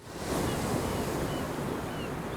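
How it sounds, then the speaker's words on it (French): A seashell held to the ear in a cartoon gives a steady, hushed roar like distant ocean surf, continuous and broadband with no distinct wave breaks. "J'entends le bruit des vagues."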